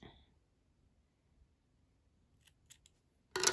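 Scissors snip through crochet yarn after a quiet pause, with a few faint clicks of the blades and then one sharp close cut at the end.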